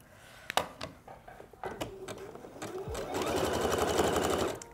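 A sewing machine stitches a leggings seam, starting with a few short bursts for a back stitch, then settling into a steady, close, buzzing whir that runs to the end.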